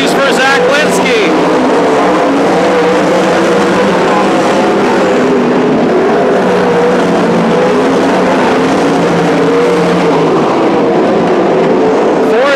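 Several 360 sprint cars race around Petaluma Speedway in a steady loud engine roar that swells and fades, with a race announcer talking over the cars throughout.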